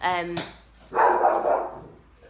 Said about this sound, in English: Sorry, dog going crazy.